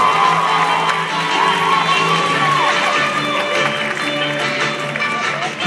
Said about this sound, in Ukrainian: Ваші оплески номер 7 Максим Костовий.